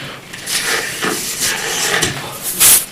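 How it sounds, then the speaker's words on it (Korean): Air being squeezed out of a twisted balloon while shaping a seagull, a close, breathy hiss in uneven bursts with soft rubbery squeaks and a sharper squeal near the end, no talking. "이제 양쪽을 바람을 좀 뽑아주셔야 되는데 이걸 기술적으로 뽑아야 돼요"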